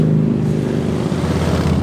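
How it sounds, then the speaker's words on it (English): Motorbikes roar past on a country road, a loud, steady engine drone with a rising and falling pitch, heard close while someone speaks over it. "Sorry, noisy motorbikes."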